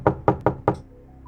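Four sharp knocks strike a door in quick succession, close and distinct, with brief ringing decay between hits and no talking.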